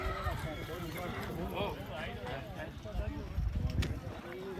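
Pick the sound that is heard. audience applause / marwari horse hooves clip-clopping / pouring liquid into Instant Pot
marwari horse hooves clip-clopping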